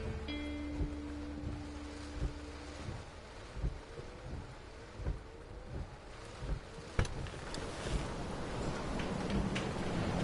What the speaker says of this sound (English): Look at that monstrous storm.